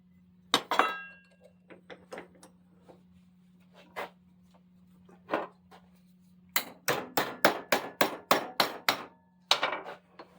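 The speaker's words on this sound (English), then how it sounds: "Technically, you're not supposed to hammer on the jaws of a vise" Sharp metallic hammer strikes on steel angle iron held on a vise, a few scattered blows and then a quick run of about eight loud, evenly spaced hits, ringing close by.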